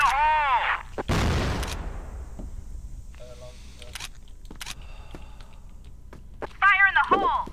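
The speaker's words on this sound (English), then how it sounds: "Flash bomb." A flash bomb going off in the Crossfire shooter game during a clan war match, a sharp broadband burst with a hissing decay, set among scattered gunfire clicks and electronic tones.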